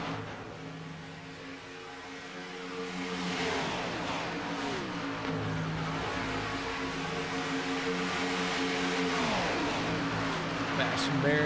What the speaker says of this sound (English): here they go, drag racing down the backstretch